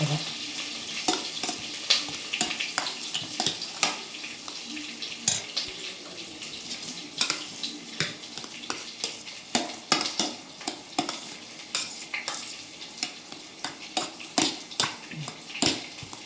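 Curry leaves sizzle in hot oil for tempering a coconut chutney, a steady close crackle broken by frequent sharp pops and scrapes of stirring, with no talking.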